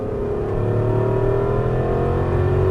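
An Aston Martin V8 Vantage engine pulls hard on the Las Vegas Exotics Racing track, heard from inside the car as a loud, steady rising drone with climbing pitch under full throttle.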